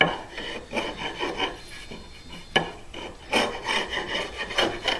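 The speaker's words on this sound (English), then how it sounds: "scrape this epoxy off of here" A scraper rasps epoxy off the mahogany neck of a handmade guitar near the truss rod, making repeated short gritty strokes in an uneven rhythm. The strokes are close and moderately loud, with no voices.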